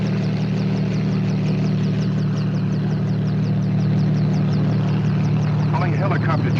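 A helicopter engine droning steadily and loudly throughout, with a constant low hum and rotor chop, while voices talk over it.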